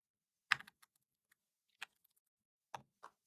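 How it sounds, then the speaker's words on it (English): Several separate keystrokes on a computer keyboard as a name is typed, sparse clicks spaced irregularly over a few seconds, close and quiet in an otherwise silent room. "I need to type my name"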